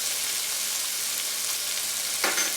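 Small chicken pieces sizzle steadily in a hot pan, a constant bright crackling hiss close up, with a brief louder burst near the end and no talk.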